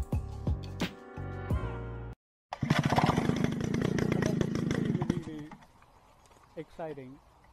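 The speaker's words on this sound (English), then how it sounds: "this homemade helicopter flies around in the backyard" A homemade helicopter flies around a backyard, its engine buzzing with a rapid rotor chop that is loud at first and then fades, followed by a few quieter blips.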